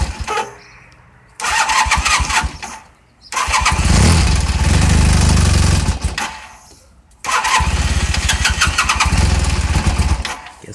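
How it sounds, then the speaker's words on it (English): A Honda motorcycle engine cranks and catches three times, each start rising into a loud, steady idle lasting a second or two before cutting out, heard up close with no talking. "guess I should choke it, get this thing going."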